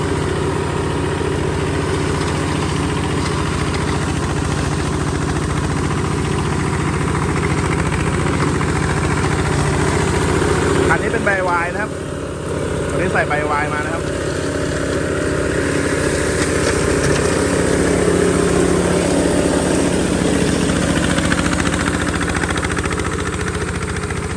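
15 hp single-cylinder diesel engine on a 4x4 ride-on mower idling: a steady, close mechanical chug runs throughout, with a few brief higher squeaks around the middle.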